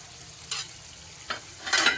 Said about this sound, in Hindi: अब मैं टमाटर डालकर आम तरीके से मसाला भून लूँगी।